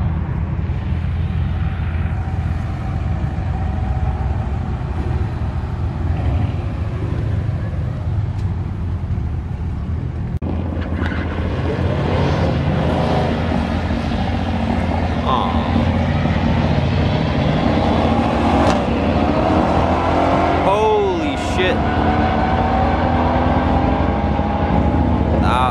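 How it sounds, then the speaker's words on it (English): Mercedes cars and a BMW M2 drag racing at a raceway, with loud, rough engine roar and rumbling traffic noise that build in intensity partway through, heard from nearby with some background chatter. "we got a couple of Mercedes and a M2"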